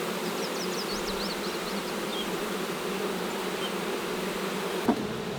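Dense, steady buzzing of many bees, drones among them, from an opened beehive, continuous and close throughout, with a brief soft knock near the end.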